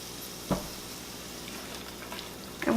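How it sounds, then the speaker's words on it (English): Trimmed liver frying in a pan makes a soft, steady sizzle with a couple of brief pops and taps, faint and close. "with the liver here, we just want it to get cooked on the outside. We still want it pink on the inside."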